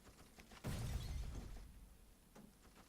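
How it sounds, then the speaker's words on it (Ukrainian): A single explosion in the video game You Are Empty, set in a foggy forest, bursts suddenly with a shattering crash, then a low rumbling decay that fades over a couple of seconds. "Зараз буде вибух."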